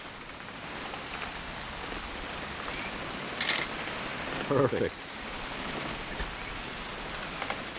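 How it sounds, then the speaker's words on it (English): Steady rain falling in the video game What Remains of Edith Finch, a dense continuous patter throughout with a couple of brief clicks, while a voice speaks briefly. "It's gonna rain the whole weekend, isn't it?"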